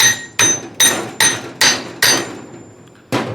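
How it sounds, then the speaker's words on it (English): A copper hammer drives a collar onto a 1920s Prentiss vise being reassembled after restoration, striking six crisp, evenly spaced blows and then one more after a short pause, each ringing close and loud. "What I'm doing is just taking my copper hammer and just driving this in."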